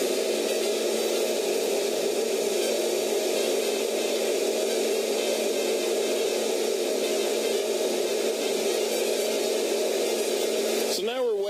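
FreshRoast SR 500 home coffee roaster roasting coffee beans with its heat setting raised, giving a steady close hiss of blowing hot air that runs evenly throughout, ending in a brief warble.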